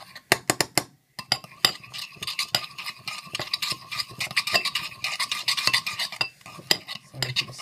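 Repeated scraping and clinking of a metal utensil against the inside of a blender bottle, irregular strokes close up, with no talking.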